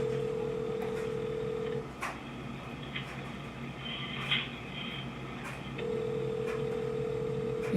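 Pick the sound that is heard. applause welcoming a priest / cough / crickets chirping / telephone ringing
telephone ringing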